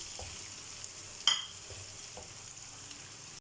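Cubed medium tomatoes and four whole green chillies fry in a pan, a steady soft sizzle with one sharper hiss and clink partway through, close and without talk.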